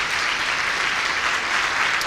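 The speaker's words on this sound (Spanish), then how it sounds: "Te damos un aplauso de honor y de gratitud" A church congregation applauds during a worship service, giving a steady, dense round of clapping throughout with no talk over it.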